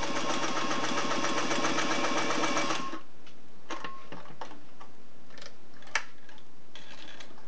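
A Singer 503A slant-needle zigzag sewing machine stitches forward in a fast, steady mechanical whir with rapid needle ticking for about three seconds, then stops, leaving faint handling clicks and small knocks.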